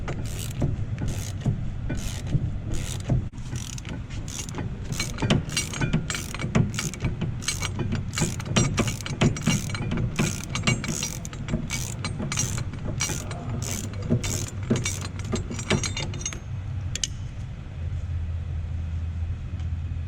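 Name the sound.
undoing a GT350 rear brake caliper bolt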